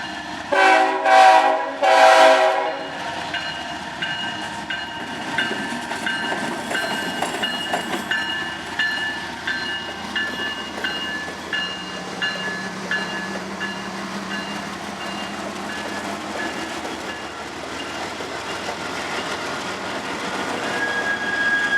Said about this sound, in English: this is the first time I've ever seen a GTW locomotive